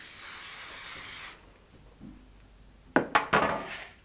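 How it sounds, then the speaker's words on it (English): Cooking spray hisses steadily onto a baking sheet for just over a second, then a quiet pause is followed by a few sharp metallic clinks and knocks of the pan. "I'm never against using a cooking spray"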